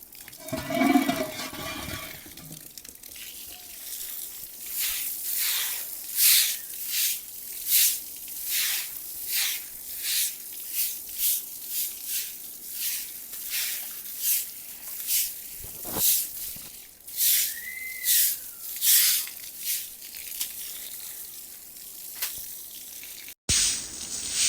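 Water splashes rhythmically as a ceiling fan and verandah of a mud house are washed, repeated bursts of spraying and splashing in a steady pattern, fairly close, with no talking.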